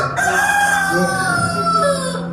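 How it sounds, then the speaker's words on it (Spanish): A rooster crows once, a loud, close, drawn-out call that holds steady for a couple of seconds before trailing off. "El gallo de Pedro."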